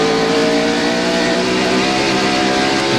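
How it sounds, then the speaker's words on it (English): A NASCAR stock car engine at the Bristol fall 1996 race, blipping the throttle coming off a corner, loud and droning with a steady high engine tone that fills the whole moment, no voices over it. "We can listen to Mark Martin's car and tell that he's not able to get on the gasoline, the accelerator."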